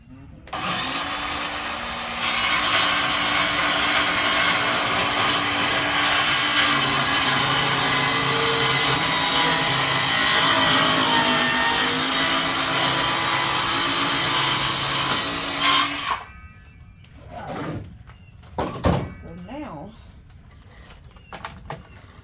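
A power saw cuts a quarter inch off the end of a wooden board, a loud steady whining cut lasting about fifteen seconds, then it stops and a few clunks and handling knocks follow.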